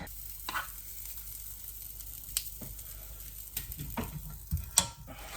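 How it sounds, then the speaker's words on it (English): Butternut squash pancake batter sizzling and frying in a pancake pan, a soft steady crackle close by, broken by a few clicks and clatters of utensils. "Now I just need to add the batter to the pan and cook the pancakes."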